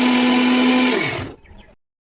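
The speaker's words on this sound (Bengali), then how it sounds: "এখন ব্লেন্ড করে নেব" Boiled tomatoes being pureed in a blender: a loud, close motor whine runs steadily, then winds down and cuts off into silence.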